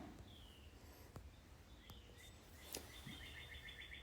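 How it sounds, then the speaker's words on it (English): Birds chirping outdoors, a few faint thin tweets and trills at a distance over quiet background hiss, with a couple of soft knocks. "Hear the birds? Yep, they're here."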